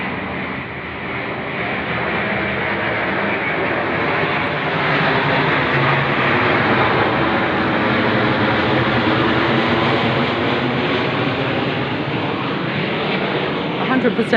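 Airplane passes overhead in a steady, loud broadband roar that swells slowly and holds for the whole stretch.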